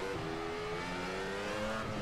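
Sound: V10 Formula car engine in rFactor 2 video game

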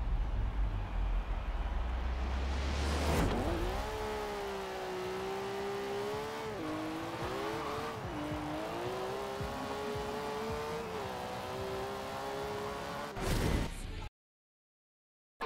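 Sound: TVR Cerbera GT1 car accelerating in quarter mile, Forza Horizon 4 video game

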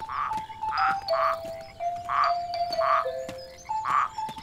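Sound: frogs croaking

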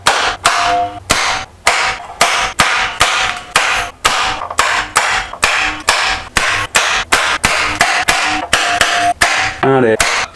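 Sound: hammer tapping on spot welds of Nissan Skyline R32 panel

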